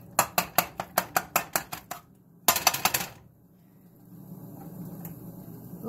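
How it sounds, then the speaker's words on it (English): Quick, sharp clacking in a kitchen: a utensil rapidly striking a pan while scrambling eggs, a fast run of about a dozen hits, a pause, then another brief flurry, followed by quiet background hiss. "It's a good time scrambling eggs in hand."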